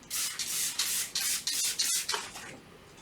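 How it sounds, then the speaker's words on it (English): Repeated short hissing sprays of water spot remover from a trigger bottle onto a wet car, about seven bursts in quick succession, close and fairly loud with brief pauses between them. "So I'm going to spray this on and then work it in with a microfiber."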